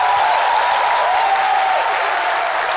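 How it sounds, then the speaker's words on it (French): An audience claps loudly and steadily in a French midday show, a thick continuous wash of applause with a faint musical tone running beneath it. "on applaudit très fort encore pour ces dames"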